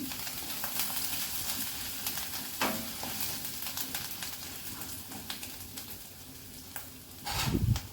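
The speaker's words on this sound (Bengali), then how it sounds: "আদাটা হয়ে গেছে ভাজা" Grated ginger frying in a pan for a traditional bitter dal, giving a steady close sizzle with scattered crackles and a brief stir or scrape near the end, with no talk.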